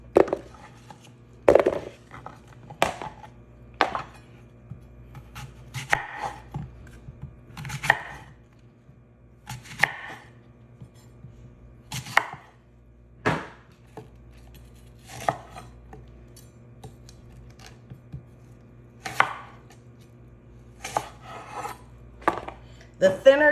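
Apples for an apple cobbler are sliced with a knife on a cutting board, giving a long, uneven series of sharp close chopping taps with quiet pauses between them.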